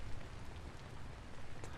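Steady rain falls in the video game Vintage Story, a dense, even patter that stays close and constant with no other sounds.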